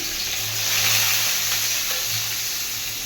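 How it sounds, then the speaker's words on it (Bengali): Onions and green chilies fry in a pan as a steady, close sizzle with a faint crackle, holding even for about three seconds with no talking. "পেঁয়াজগুলো খুব সুন্দর লাল লাল করে ভেজে নিয়েছি"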